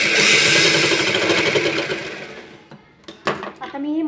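A sewing machine stitching a blouse whirs loudly and steadily, then slows and fades out, followed by a few clicks and a brief voice.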